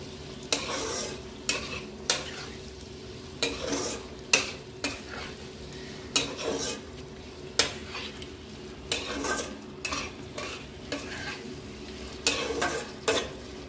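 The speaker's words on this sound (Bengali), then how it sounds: "সামান্য অল্প একটু জল দেব, দিয়ে গ্রেভিটাকে মিশিয়ে নেব।" Chicken gravy with chili powder, turmeric and a splash of water being stirred in a pan: a soft simmering sizzle broken by regular spoon scrapes and knocks roughly every second.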